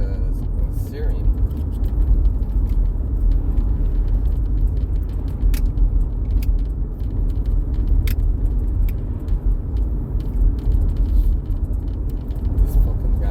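A car moving along a road, heard from inside as a steady, loud low rumble of engine and road noise with faint rattles and clicks throughout.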